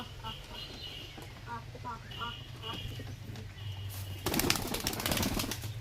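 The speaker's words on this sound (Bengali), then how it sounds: "এক একটা করে পায়রা ছেড়ে দে" Pigeons released one at a time from a home coop burst into flight with a loud flurry of flapping wings near the end, while people talk throughout and faint coos and rustling sound beforehand.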